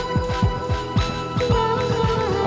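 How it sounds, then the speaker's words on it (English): A filter echo effect on a Denon DJ Prime 4 controller applied to a playing track, with punchy kick drums repeating under filtered synth tones and echoing, skippy repeats. "Now let's try filter echo."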